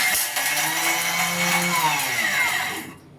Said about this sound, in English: close, and then we grind